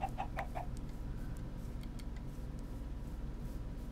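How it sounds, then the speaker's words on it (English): Minecraft chickens give a few quick clucks at the start over a steady low hum, then only faint scattered ticks remain. "A lot of chickens, eggs"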